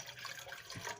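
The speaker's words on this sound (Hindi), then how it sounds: "पानी डालना है" Water splashes and pours into a cooking pot on a gas stove for lemongrass tea, a short, soft, continuous watery rush close by with no one talking.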